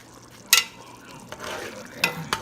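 Crab meat stuffing is stirred in a pan, giving a low background sizzle broken by a few sharp scrapes and clacks of the spoon against the pan, near and alone.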